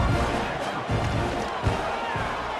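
Stadium crowd in the College Football 26 video game after a Texas A&M touchdown, a steady loud roar and buzz with a few swells and thumps.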